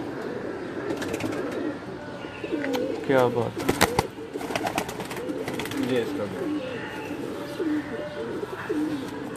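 Domestic pigeons coo in a loft, soft repeated throaty coos and occasional chirps and wing flutters nearby, while someone talks over them throughout.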